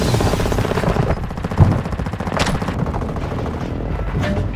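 Gunfire in the video game Call of Duty: Modern Warfare II Warzone, rapid steady bursts of automatic shots under a busy combat din, with one sharper crack standing out.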